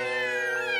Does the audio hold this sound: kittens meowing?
yes